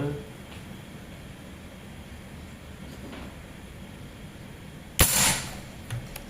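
A single sharp crack rings out from a Predator Ataman Crane PCP air rifle with a 38 mm dural body, 2700 psi fill and 30 cm seamless barrel, fired at a metal silhouette and brick fragments. The shot follows several quiet seconds of outdoor ambience, and a faint tap comes after.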